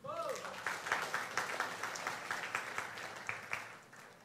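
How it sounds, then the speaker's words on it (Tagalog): A church congregation claps excitedly during a sermon, rhythmic crowd applause with a brief voice at the start, steady and moderately loud before easing off at the end. "Ang excited na palakpak."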